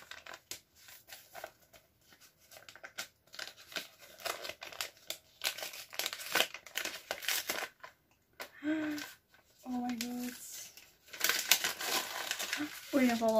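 Paper and plastic crinkling and tearing as a small parcel wrapped in a paper bag is opened, close and irregular, with someone talking and exclaiming at intervals.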